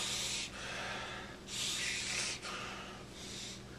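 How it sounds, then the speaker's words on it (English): A person breathes in deeply during a self-check of the breathing muscles in the neck, giving three long, close, airy inhalations separated by brief pauses, with no talking. "as I breathe in."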